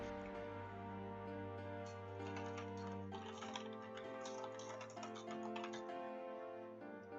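Rapid computer keyboard typing clicks along steadily in the background behind game music, faint and continuous throughout.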